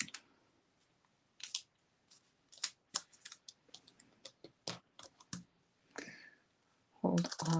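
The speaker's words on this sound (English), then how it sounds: "as I run it through my Stampin' Cut and Emboss" A Stampin' Cut and Emboss die-cutting machine being cranked, giving off scattered quiet clicks and ratcheting taps, with a louder grinding burst at the end.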